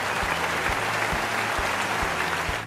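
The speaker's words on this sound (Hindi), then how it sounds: "चले थोड़ी सी तालियां कर दें।" A studio audience at a general-knowledge quiz show claps for the contestant who gave the first answer, a dense, steady burst of applause lasting a few seconds with no voices over it.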